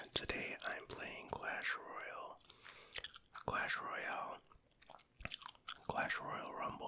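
Close, intimate whispering mixes with moist, smacking gum chewing during a Clash Royale game session. Soft whispered phrases alternate with wet chewing clicks in an irregular rhythm.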